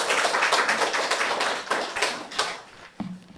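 A short burst of hand clapping from a church congregation at a joint worship service, dense and fairly close, tapering off near the end.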